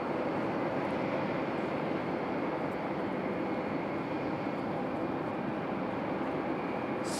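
A Republic Airways Embraer E-175 jet departing Raleigh Durham airport gives off a steady, broad roar heard from a distance, sustained and even throughout without any voices.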